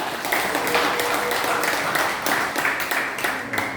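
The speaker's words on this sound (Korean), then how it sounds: "크게 박수 해주시면 감사하겠습니다" Clapping from the audience at a Korean panel discussion on the Korea–US alliance. The applause is moderate and continuous, with individual claps audible and a faint voice or tone under it.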